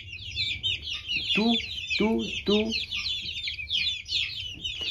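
Peruvian chickens, black and French breeds, cluck close by in a short run of throaty calls, with higher chirping chatter above and a brief voice.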